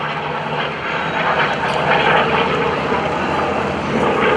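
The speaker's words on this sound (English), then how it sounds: "Here comes the SB2C Helldiver again." A World War II SB2C Helldiver warbird with a 1,700 horsepower Wright radial engine drones loudly overhead at an airshow, a steady sustained roar that swells slightly as it passes.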